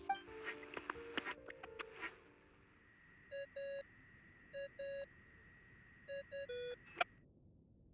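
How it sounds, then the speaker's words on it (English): A phone ringing tone from the Genshin Impact video game sounds in repeated short pairs of electronic beeps, clear and steady, after a few opening clicks and taps with a soft hum behind. "I really hate that ringing tone."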